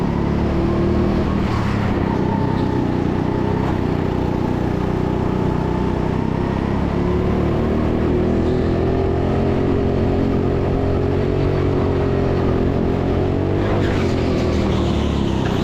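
Go-karts race around an indoor track during a 50-lap mixed-ability race, a continuous loud engine drone with rising and falling pitch as the kart accelerates and brakes through corners, close and steady throughout.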